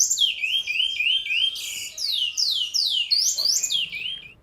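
Bicudo finches singing at a commercial breeding aviary, a loud, close chorus of rapid sweeping whistled phrases repeated in quick succession and overlapping without pause.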